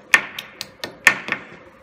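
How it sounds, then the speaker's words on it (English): Six sharp, close hammer strikes drive wall anchors into drilled holes in an irregular rhythm, two of them louder than the rest, with no talking. "let's go ahead and hammer these anchors in."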